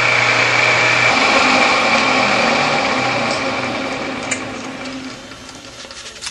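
A lathe runs a center drill with a steady high whine and mechanical hum, gradually winding down and quieting toward the end, with a few small clicks.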